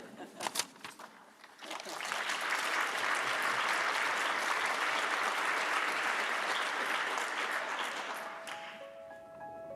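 A few scattered claps build into loud, sustained applause from a large audience, holding steady for several seconds before tapering off.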